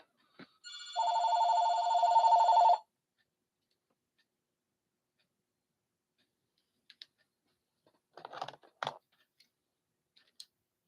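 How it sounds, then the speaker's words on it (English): An old-style telephone bell rings in one loud burst of about two seconds, followed by quiet and a few faint clicks and handling noises; no one speaks. "Phone."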